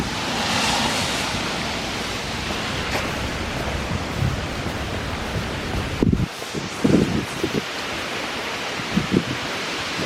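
Strong gusting wind from Tropical Storm Fiona buffets an outdoor farmers market in Fredericton, a steady broadband roar with a few heavier thumps of gusts on the microphone near the end.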